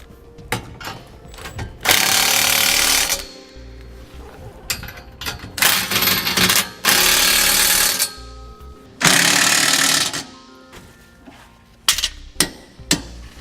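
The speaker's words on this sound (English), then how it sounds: "now we can go ahead and tighten down the bolts. We'll use a 3/4 inch socket" An impact wrench drives hitch bolts with a 3/4 inch socket on a Curt adjustable-width RV trailer hitch, loud rattling bursts of a second or so repeated several times, separated by clinks and handling noises, close by with no talking.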